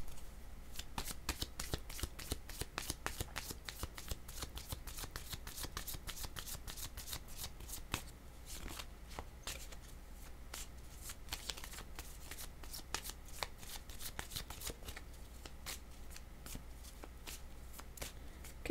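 Tarot cards are shuffled continuously by hand, a close, quiet run of rapid papery riffles and flicks with a steady rhythm throughout.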